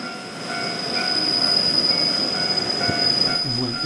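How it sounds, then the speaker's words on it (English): A local electric multiple-unit train runs on a Hokkaido line near Kaminoporo station, giving a steady close rumble with a high whine and faint wheel squeal throughout. "I walked back to the Kaminoporo station and hopped aboard this local EMU."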